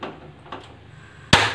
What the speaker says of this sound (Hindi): और गैस को ऑन करेंगे।